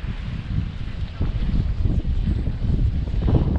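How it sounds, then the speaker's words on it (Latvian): Steady wind rushes and buffets the microphone on a footbridge, with low gusty rumbling rising and falling throughout. "O, ko forši uzpūš vējiņš."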